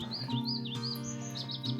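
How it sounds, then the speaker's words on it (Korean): Birds chirp and sing along a mountain trail on Seoraksan in spring, bright repeated warbling calls ringing close and clear over a low steady hum, continuous for a couple of seconds with no voices. "새소리는 더 힘차고"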